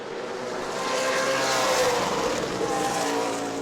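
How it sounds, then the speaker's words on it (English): Super late model stock cars race in a pack at New Smyrna Speedway during the misty Governor's Cup Super Late 200, their engines a loud, continuous roar that swells and fades slightly as they pass, with faint tire squeal. "Nau Sea's able to pull in just about a car length in the straightaways."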